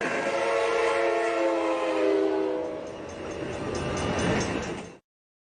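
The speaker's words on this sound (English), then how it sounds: "you can predict that there's a train coming before you actually saw it" A train rumbles steadily closer with a rising mechanical roar and a sustained horn tone, then the sound cuts off abruptly.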